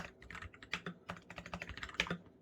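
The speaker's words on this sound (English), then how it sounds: "Sorry, my typing is shocking." Rapid, uneven typing on a computer keyboard while scripting a bot, with dense clusters of close, crisp key clicks running throughout and no voices.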